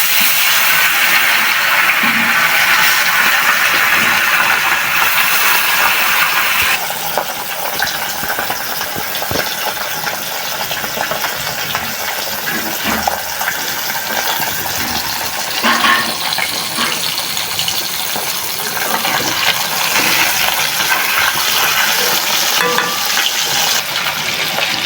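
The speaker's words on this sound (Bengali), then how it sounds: "গরম হয়ে গেছে, মাছ দিয়ে দিব।" Poa fish frying in hot oil in a kadai wok, a loud continuous close hiss and crackle that swells and changes texture partway through, with no talk.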